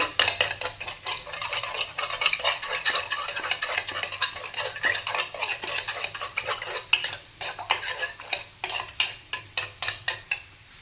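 Eggs for a Maggi tikki are whisked in a bowl, with a rapid series of sharp clinking taps of utensil against the bowl that grow more distinct and rhythmic toward the end, close up and with no voices.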